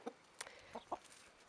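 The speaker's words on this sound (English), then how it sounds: "They are all Rhode Island Reds." Rhode Island Red chickens clucking softly at a farm, a few short separate clucks spread across a quiet background.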